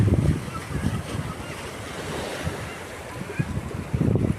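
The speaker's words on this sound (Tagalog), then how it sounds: "Ganda ng alon guys" Surf washing in and out with gusty wind buffeting the microphone, the louder swells rising near the start and end.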